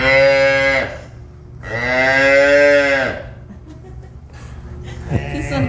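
Young calf, two to five days old, in a farm nursery pen: two loud, drawn-out moos up close, each lasting about a second. Quieter rustling and faint people sounds fill the gaps between calls.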